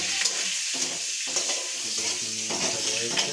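Black cumin seeds and torn dried chillies hit hot oil with a bright, crackling sizzle that flares in bursts as they are stirred, close and moderately loud.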